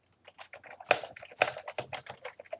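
Typing a name on a computer keyboard, a quick burst of soft, close key clicks in an uneven rhythm lasting a couple of seconds, fairly quiet and with no talking.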